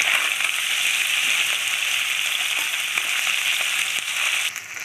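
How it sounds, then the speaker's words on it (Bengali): Large chuno small fish frying in oil in a pan, a steady dense hiss and crackle heard close and continuous throughout, with scattered sharper pops and no talking. "এই যে বড় মাছগুলো ভেজে নিচ্ছে।"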